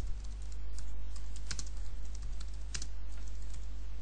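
Rapid clicking keystrokes on a computer keyboard, close and steady over a constant low electrical hum, with no one speaking.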